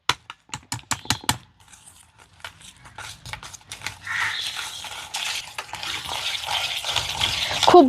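A yogurt mixture for steamed bhapa doi is whisked in a bowl, starting with rapid, crisp rhythmic taps, then settling into a softer, continuous wet swishing.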